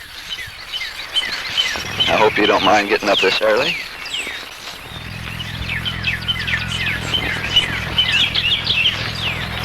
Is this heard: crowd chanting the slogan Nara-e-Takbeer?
no